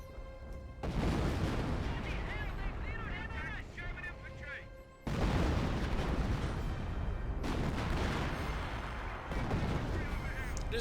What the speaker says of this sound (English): This is just two guns shooting right now.